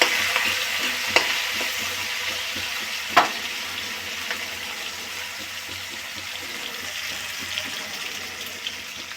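Tiger prawns fry in a wok with a steady, close hiss of bubbling oil and a few sharp spits and stirring clicks.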